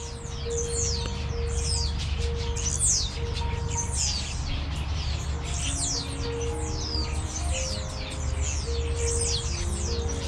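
Many birds in an aviary at Butterfly World chirp and tweet in a dense, overlapping chorus of quick high calls, with some lower sustained whistles and coos beneath, steady and close throughout.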